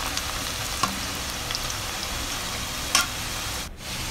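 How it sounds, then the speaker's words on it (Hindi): Potatoes deep frying in a kadai of hot oil for crispy chilli potato, a steady soft bubbling hiss throughout with a couple of brief clinks, fairly quiet and without speech. "यहाँ हमारा आलू फ्राई हो गया है"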